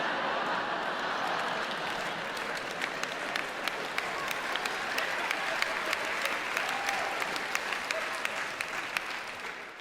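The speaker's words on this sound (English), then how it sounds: "Why are we clapping?" A comedy show audience applauds steadily for about ten seconds, a dense wash of many hands with a few sharp individual claps standing out, and faint voices mixed in.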